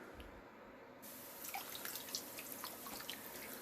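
A humidity fogger switches on and settles into a steady, faint hiss with soft spitting, dripping sounds scattered over the top, close by and quiet, with no voices.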